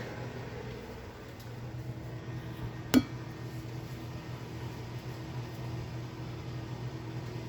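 A steady low mechanical hum with a faint whirr runs throughout, broken once by a single sharp click partway through.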